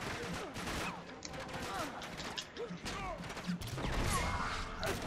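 Gunfire in the Uncharted 3 video game, dense bursts of shots and impacts crackling throughout amid a busy battle, with players talking over it.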